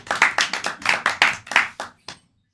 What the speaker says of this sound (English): Applause for player number 4.